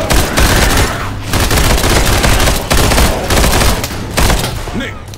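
Dense bursts of gunfire from a City 17: Aftermath battle, rapid automatic fire with loud sustained volleys and brief pauses, close and harsh throughout.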